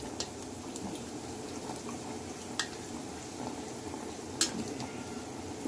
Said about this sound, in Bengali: তেল দিচ্ছি।